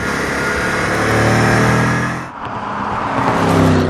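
A 2015 Dodge Challenger SRT Hellcat engine rumbles loudly up close at idle, a deep throbbing lope that briefly dips before the revving picks back up.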